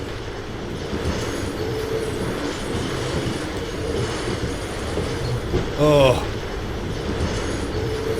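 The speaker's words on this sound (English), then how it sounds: "of all of the tiny trains we've ever had in a Cyan Worlds game, these tiny trains are the worst tiny trains." Tiny trains rolling through the Cyan Worlds game Firmament give a steady mechanical rumble and rattle, with a louder squeal burst near the end. A voice makes a brief exclamation.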